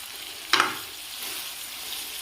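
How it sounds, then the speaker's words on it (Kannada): Cleaned ondelaga (Centella) leaves frying in a pan for a chutney, with a soft continuous sizzle, a single brief stirring scrape near the start and a faint knock at the end, close by. "ಇದು ಫ್ರೈ ಮಾಡ್ತಾ ಕ್ವಾಂಟಿಟಿ ಸಹ ಸ್ವಲ್ಪ ಕಡಿಮೆ ಆಗ್ತದೆ."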